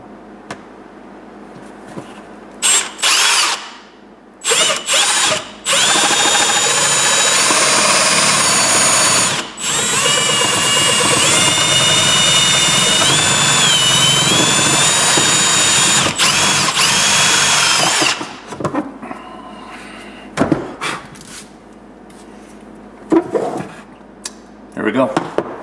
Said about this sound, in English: I'm just going to drill the hole.